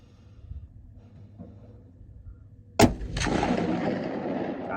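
A CVA Cascade rifle chambered in 6.5 PRC fires a single handloaded round, a sharp, loud crack around three seconds in followed by a long rolling echo, with quiet breathing and rustling before the shot.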